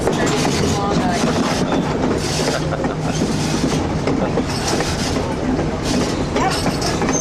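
Train rolling on rails with rhythmic clacking and rumble, close and loud, with faint voices in the background.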